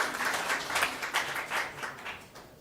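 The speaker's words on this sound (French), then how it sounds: "Voilà, sous vos applaudissements." Applause from an audience at a prize ceremony in Senegal, steady and moderately loud for the whole stretch, with scattered hand claps rising and falling in gentle waves and a few faint voices underneath.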